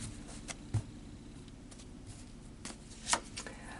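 A deck of tarot cards being shuffled by hand, with several soft riffling and tapping bursts and one sharper rapid riffle near the end, close and quiet with no talk.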